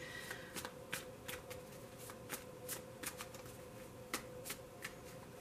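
Tarot cards are shuffled by hand in a quiet room, a string of soft, crisp riffling flicks in an irregular rhythm, close and faint against a low background hum.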